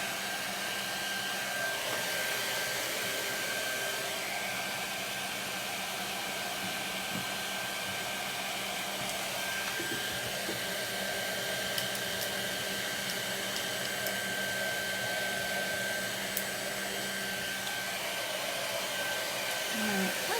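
A steady, loud blowing roar from a hand-held dryer blowing chalk dust off a surface runs continuously throughout, with faint scraping and handling noises underneath.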